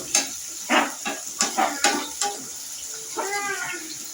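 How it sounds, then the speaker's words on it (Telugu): Curry leaves dropped into a pan where onion and green chilli are frying, giving a brief sizzle with scattered crackles and stirring noises, close by, broken into short bursts with quieter gaps. "దీంట్లోకి కరివేపాకు కూడా వేసేసుకుందాం."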